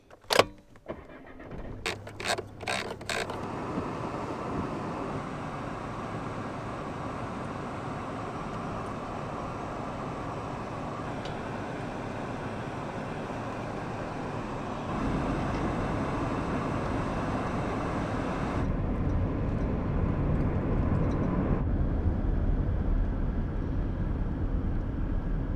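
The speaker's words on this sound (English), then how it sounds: "The ferry just arrived and is unloading all the cars and trucks" Cars and trucks roll off a ferry on a Western Norway fjord, a steady close vehicle rumble that swells and grows louder partway through, with a few sharp clicks at the start and no talking.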